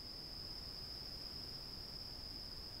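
A bush cricket's high, thin, continuous trill hangs steadily over a quiet hiss of background noise in the Italian countryside at dawn, faint and unbroken.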